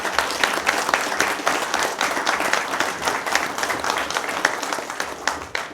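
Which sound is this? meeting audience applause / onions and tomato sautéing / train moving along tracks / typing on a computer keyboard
meeting audience applause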